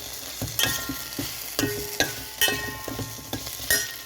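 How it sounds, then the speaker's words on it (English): Onion fries in a pan over medium heat with a steady sizzle, while a spoon stirs and scrapes against the metal in repeated clinks and knocks close by. "After frying onion for about 5 minutes and stirring it constantly"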